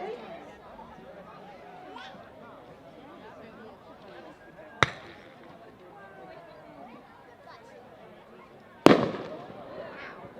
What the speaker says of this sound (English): make sure it's safe to fire at the very pistol